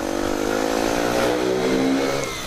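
Sinnis Apache 125 motorcycle with a DEP exhaust revving steadily and loudly up close, its engine note rising and falling slightly over a sustained drone.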